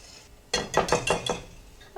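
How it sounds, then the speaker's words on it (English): Whisk clinking against a bowl while onion powder and seasonings are blended, five or six quick, bright metallic taps in a steady rhythm, close and clear with no talking. "Just going to whisk this together until it's well blended"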